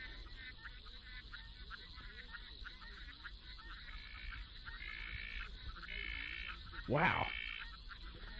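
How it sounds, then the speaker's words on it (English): Frogs croak in a steady repeating chorus of short pulsed calls, continuous ambient backdrop through the clip, with a brief exclaiming voice near the end. "You could have this ambient frog sound"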